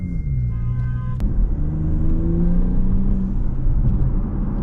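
A 2024 Porsche Panamera 4S engine rumbles steadily with a low, throaty drone that rises and falls slightly, heard from inside while driving.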